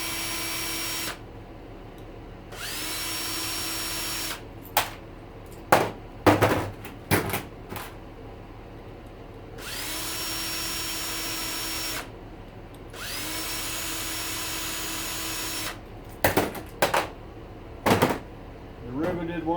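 A power tool unscrews a blower motor in several sustained whirring runs, with clanks and rattles of handling parts in between.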